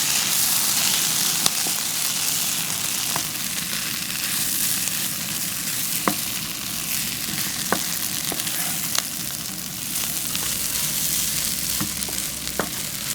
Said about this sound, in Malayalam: ഈ തേങ്ങേൻ്റെ മിക്സ് ഇതിലിങ്ങനെ ചേർക്കട്ടോ. അപ്പോൾ അത് ചേർത്തിട്ട് നല്ലോണം മിക്സ് ചെയ്യാം